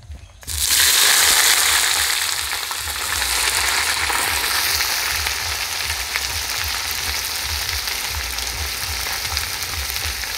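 Onions frying in hot oil with whole garam masala while cooking mutton fried rice, a loud steady sizzle that bursts in sharply at the start, then settles into a dense continuous crackle with faint stirring.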